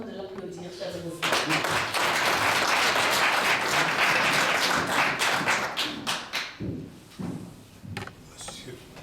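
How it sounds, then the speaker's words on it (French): Loud, sustained applause from a crowd at a Senegalese diaspora gathering in Marseille, many hands clapping together, then thinning out into scattered individual claps near the end. "Je vous demande de l'applaudir chaleureusement."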